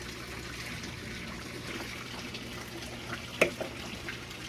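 Fish tank water poured onto potted plants outdoors, a steady soft trickle and splash that continues throughout, with one brief louder knock near the end.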